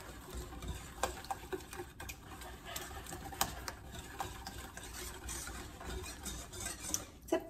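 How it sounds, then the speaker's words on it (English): A whisk working sugar into egg whites in a home kitchen, a steady run of quiet, rapid clicking and tapping against the bowl, faint and continuous with no talking. "Now I am just going to whisk this until the sugar has all dissolved into the egg whites"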